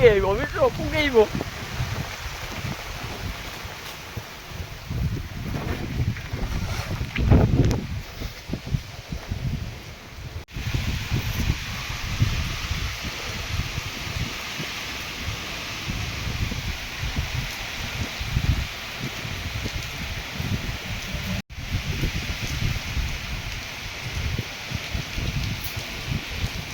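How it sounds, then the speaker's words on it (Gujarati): Strong storm wind gusts and roars in uneven bursts over a rustling, rain-soaked outdoor setting. People talk intermittently over it. "પવન વધારે છે"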